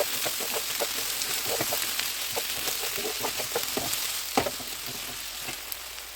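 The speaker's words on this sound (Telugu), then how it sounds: "ఇప్పుడు ముందుగా కట్ చేసి పెట్టుకున్న ఆనియన్స్ ముక్కలను, బంగాళదుంప ముక్కలను వేసి కలుపుకోవాలి" Onion and potato pieces fry in a pan after mustard seeds, giving a dense crackling sizzle with frequent spatter pops and stirring clicks, close and without talk.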